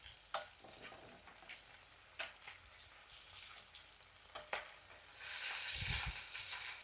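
Fresh river hilsa fish sizzle softly in hot oil in a kadai after being flipped, with scattered utensil clicks. Near the end the frying swells into a louder, fuller sizzle.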